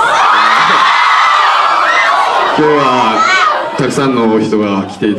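Fans cheer and scream enthusiastically for actor Satoshi Tsumabuki at a stage greeting in Korea. Shrill, high whoops swell loudly and continuously, then break into separate excited shouts near the end.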